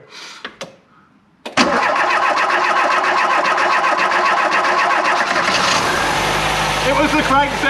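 An abandoned Volvo 340 cranks briefly and catches on a makeshift fuel tank setup, then runs loud and steady close by for several seconds, with faint voices before it fires.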